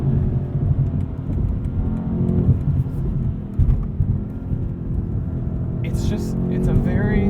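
A 2020 BMW M8 Competition Coupe's engine roars and revs hard at full throttle under steady load, a loud continuous rumble with a brief higher whine near the end.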